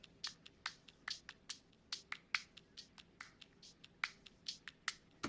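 A clap percussion loop layered with a hi-hat loop in a simple drum beat, crisp sharp hits repeating in a steady syncopated rhythm, quiet and isolated with nothing else playing.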